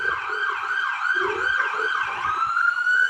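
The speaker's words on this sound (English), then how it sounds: "Oh, it's an ambulance." Ambulance siren passing along a Prague street, its wailing two-tone sweep cycling steadily and loudly throughout with faint road traffic beneath.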